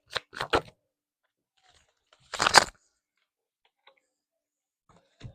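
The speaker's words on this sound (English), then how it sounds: "this will be the last shuffle through." Short bursts of tarot card shuffling, a quick riffle then a longer rustling flurry, with scattered faint ticks between, close and quiet.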